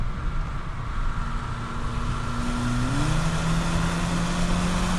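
Inside a 2017 Volkswagen Golf R, the engine pulls under acceleration, a steady drone whose pitch climbs smoothly then steps after an upshift, with continuous road and wind noise.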